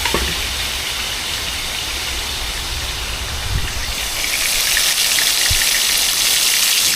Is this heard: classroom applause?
no